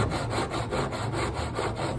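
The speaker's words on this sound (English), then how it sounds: "just slowly work the back of the saw downwards so you're coming across your timber" A hand saw works steadily through timber for a halving dovetail joint, close up with a rhythmic back-and-forth rasp of about eight even strokes and no talking.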